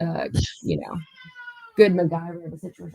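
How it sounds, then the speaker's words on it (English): A pet cat meows in the background of a conversation, with a long drawn-out call partly overlapping a person speaking nearby. "I'm sorry about my cat."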